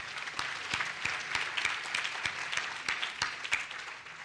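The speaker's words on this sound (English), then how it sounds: "I think a round of applause just for that" Steady applause from a crowd at a luncheon gathering, dense and sustained with sharper individual claps popping out, moderately distant and with no talking over it.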